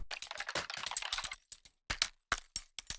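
Dry clicky foley percussion hits for a future garage track, a busy burst of crackling taps followed by sparse, evenly spaced sharp clicks standing alone.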